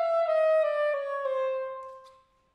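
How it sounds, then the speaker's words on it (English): A string quartet plays a plain chromatic scale, a sustained bowed line stepping through closely spaced pitches in quick even steps, clear and close before fading out near the end. "So like a normal chromatic scale would sound like this."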